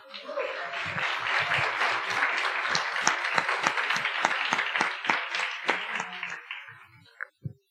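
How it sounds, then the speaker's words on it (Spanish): A church congregation applauds steadily for several seconds, dense clapping that thins out and ends with a few last scattered claps. "Démosle un aplauso al Señor."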